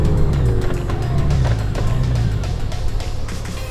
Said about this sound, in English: You'll see the difference in the engine sound as well.